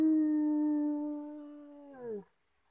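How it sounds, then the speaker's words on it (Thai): One dog howls at night, around two or three in the morning: a single long, steady, mournful tone that closes with a short, falling whimper, close and alone with no voices. "มันสิมีมาเห่ามาหอนมาก่อนนะครับ"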